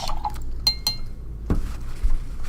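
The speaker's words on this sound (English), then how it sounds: "I'm going to rinse out my brush," A paintbrush is rinsed in a water container during watercolor painting, giving brief glassy clinks and small watery splashes, including a sharper knock midway, over a low room hum with no talking.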